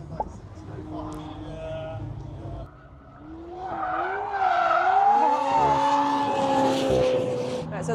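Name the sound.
McLaren car drifting on race track, tires squealing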